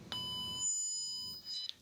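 Tone and trace set tracer probe picking up a network cable tone: a faint steady electronic warble with thin high pitched lines over low hum, brief and alone.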